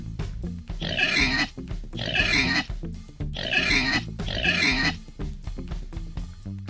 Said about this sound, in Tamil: பன்றி, pig